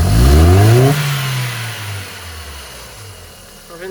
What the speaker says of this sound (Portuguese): Acelerando aqui forte, rapidamente, para ver se o motor vai fazer aqueles estouros ou vai ficar se balançando, tremendo.